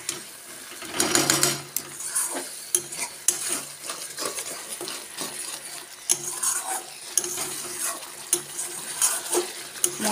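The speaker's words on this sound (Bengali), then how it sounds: "এরপর আমি মশলাটাকে ভালোভাবে কষিয়ে নেব" Spice masala being stir-fried in a pan, a spatula scraping and clinking against the metal in uneven strokes over a soft sizzle, fairly quiet and without talk.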